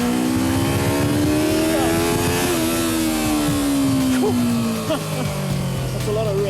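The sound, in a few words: Yamaha R3 motorcycle engine revving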